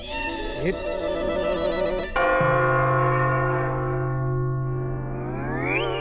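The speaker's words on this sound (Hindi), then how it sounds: "बज गई घंटी" A bell rings and its deep, resonant tone holds steady and slowly fades over several seconds, with other tonal sounds and faint voices around it.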